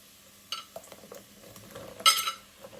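Sliced mushrooms and chilli flakes are stirred in a pan, with soft scraping strokes and light clinks of a spoon on metal, ending in one louder scrape.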